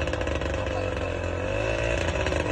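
An outboard boat engine lifted out of the water revs steadily and loudly, a buzzing, high-pitched mechanical whine that holds level throughout.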